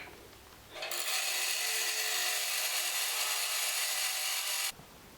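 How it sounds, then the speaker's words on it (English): A power grinder cuts down the edges of a cheap steel spanner during Ford Transit propshaft centre bearing work, a loud, steady, close abrasive whine that starts abruptly, holds for about four seconds, then stops. "I'm going to have to grind a bit off of it just so that it fits in there"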